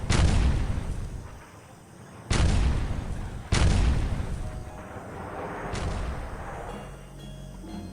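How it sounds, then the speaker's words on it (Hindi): Explosions in an audio drama set in Tibet, three heavy booms a second or two apart, each followed by a long rolling echo that fades slowly, loud and close. "बाहर चीख पुकार की आवाज़ों के साथ काफ़ी देर तक धमाके गूंजते रहे"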